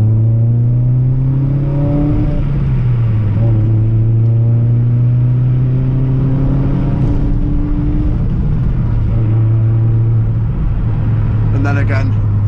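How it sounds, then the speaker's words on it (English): A Suzuki Swift Sport fitted with a Sprint Booster accelerates from inside the cabin, its engine drone climbing in pitch through repeated gear pulls, each rise followed by a drop at the shift, loud and steady throughout. "the car definitely does pick up a little bit quicker in sport eco mode"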